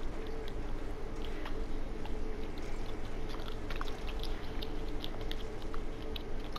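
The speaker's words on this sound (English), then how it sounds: "Are you chewing gum right now?" Gum being chewed close to a microphone during Grand Theft Auto V play, a faint, steady run of moist smacking and clicking bites under game background noise.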